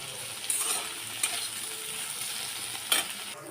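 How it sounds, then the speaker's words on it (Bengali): Bitter gourd frying with a little chopped onion, salt and turmeric in a pan gives a steady soft sizzle, with a few brief scraping or clinking accents from stirring. Nobody speaks. "করলাটা আমি অল্প একটু পেঁয়াজ দিয়ে ভাজবো"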